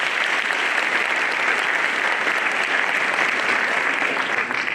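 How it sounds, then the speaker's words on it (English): A university audience of first-year students gives a loud, sustained round of applause for a doctor. The dense clapping stays steady and close from start to finish, with no voices over it. "Can we clap for Dr."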